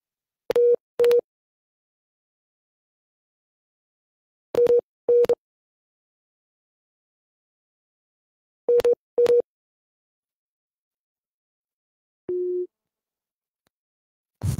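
Telephone busy signal after a radio call-in caller's line drops: three pairs of short, steady tone bursts spaced a few seconds apart, then one longer lower tone, all alone against silence.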